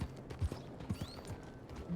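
Horse hooves clip-clopping in the video game Red Dead Redemption 2, a few soft irregular low thuds at a walking pace under faint game ambience.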